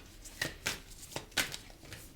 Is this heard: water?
no